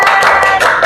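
Classroom applause from students, a brief burst of dense hand clapping that fills the room for under a second.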